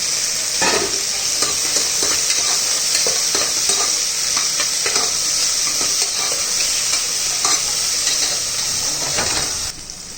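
Onions and tomatoes fry loudly in a pan for chicken curry, a constant close sizzle broken by repeated scraping stirs of a spatula, with no talk over it.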